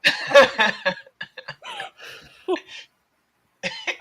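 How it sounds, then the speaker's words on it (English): A person coughs several times in short, close bursts with chuckling mixed in, followed by a pause and a final cough, all loud and near with no speech over it. "I just coughed."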